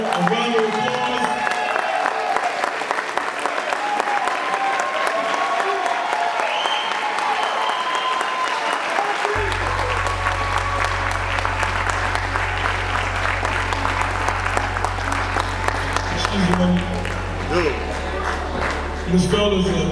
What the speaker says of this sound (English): So if we all could just stand and give this fellow a round of applause.